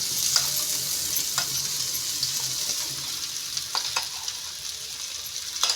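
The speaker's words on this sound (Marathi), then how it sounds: "कढीपत्ता टाकते आणि गॅस जो बारीक करते जरा." Curry leaves and a ground spice paste sizzle hard in a hot pan. A continuous bright crackle runs throughout, with occasional stirring scrapes.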